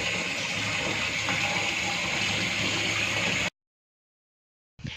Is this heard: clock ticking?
no